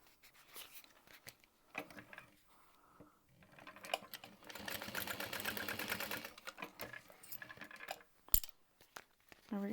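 A sewing machine runs in short bursts and one longer steady whirring stretch, top stitching through two layers of strap connector on a handbag, with small clicks and handling noises between runs.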